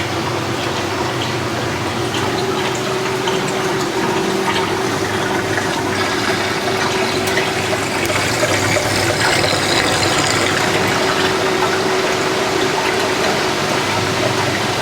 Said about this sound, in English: And the pump is draining.